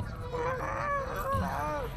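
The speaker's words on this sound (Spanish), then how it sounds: "Y las ocas o los patos de eso le jodían." Geese give repeated nasal honks, several overlapping calls in an uneven rhythm over a low background rumble, fairly close and moderately loud.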